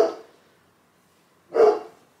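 Two short dog barks separated by a pause of over a second, the second one louder and nearby, with quiet in between.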